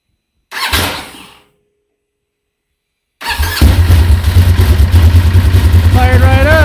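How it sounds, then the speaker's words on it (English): After a short burst of cranking and a pause, the new engine in a Polaris RZR XP 1000 fires and runs loud and close with a steady pulsing idle, and a voice speaks over it. "Fired right up."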